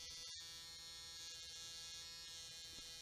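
A handheld eyebrow embroidery machine used on the brow during a cosmetic tattoo procedure gives a steady, high-pitched electric buzz that runs without a break, close and fairly quiet, with a brief gap near the start.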